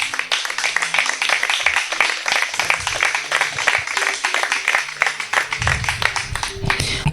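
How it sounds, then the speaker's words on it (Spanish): A crowd claps steadily throughout, dense overlapping hand claps with a low musical hum underneath and a brief deeper swell near the end. "Dale un aplauso al Eterno."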